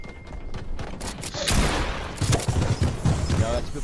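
Rapid bursts of SMG fire from the video game Fortnite, loud and close, rattling steadily through the clip with a brief lull before heavier firing resumes.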